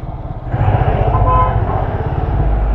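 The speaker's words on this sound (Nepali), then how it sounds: "बाइक, कुद्दैछ राम्रो" A motorcycle runs along a road in rural Nepal, its steady low engine drone close and loud for nearly three seconds, with a brief horn toot.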